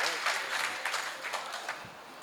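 An audience at a mushaira, an Urdu poetry gathering in Jhinjhana, Shamli, claps in a burst of applause. The clapping fades over a couple of seconds while a voice talks over it.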